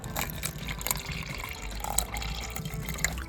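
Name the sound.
water poured into a tarantula enclosure's water dish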